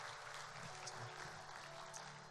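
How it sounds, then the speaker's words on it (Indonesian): A church congregation claps together in a soft, steady wash of applause, faint and distant, lasting a couple of seconds. "tepuk tangan buat Yesus sama-sama."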